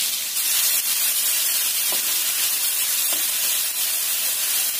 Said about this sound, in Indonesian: Kemudian kita tumis bumbunya ini.